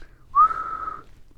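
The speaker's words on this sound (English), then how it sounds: "In a soccer game, the referee will blow the" A referee's whistle at a soccer game gives one clear, sustained blast of about half a second, loud and alone against a quiet background.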